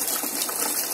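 Water pouring steadily into a tarpaulin koi tank, a continuous loud rushing gush, close and unbroken for the whole moment.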